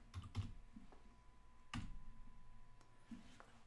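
A command is typed on a computer keyboard during a Slackware 15.0 install in VirtualBox: a few sharp, close key clicks come in uneven bursts, with one louder keystroke midway, over quiet room hiss and no talking.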